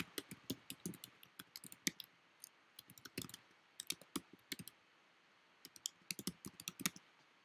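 Quiet, close typing on a computer keyboard, irregular bursts of crisp key clicks with short pauses between runs, no talk.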